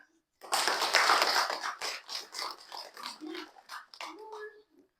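Applause at a pesantren quiz competition for students: a burst of many hands clapping that starts abruptly and fades in waves, with voices calling out over the clapping toward the end.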